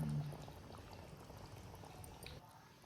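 Fish curry broth simmers in a pot as fish pieces are slipped in, giving a soft, continuous bubbling with a brief splash-like pour at the start, quiet and close.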